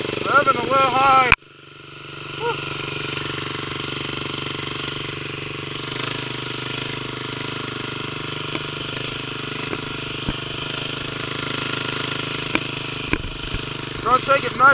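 A Tao Tao fitted with a swapped 212 engine and Juggernaut CVT runs close by at a fairly high steady rev, a continuous buzzing drone with a few sharp clicks, under occasional talk.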